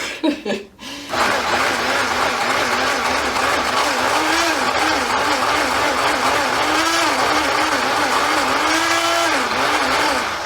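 A loud, steady motor whine from a cheap, low-quality blender making chimichurri, with a wavering pitch, runs almost continuously after a short sputtering pulsed start, harsh and close.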